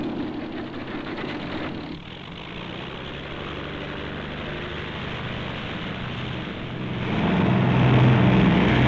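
Steady engine roar of an aircraft in flight near busy international air terminals over New York, loud and continuous, swelling near the end, with no voices.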